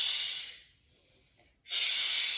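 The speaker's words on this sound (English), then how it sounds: "We're going to do a little bit of a kriya, a breath practice, more for purification and to get out that stagnation at the bottom of the lungs" A seated chair-yoga kriya breath for purification: a loud, forceful hissing breath close to the microphone, a near-silent pause of about a second, then a second strong rush of breath.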